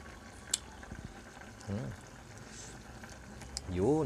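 Pork humba sauce boiling in a pot, a low, steady bubbling with soft pops and clicks, heard close up under intermittent talk and kitchen handling sounds.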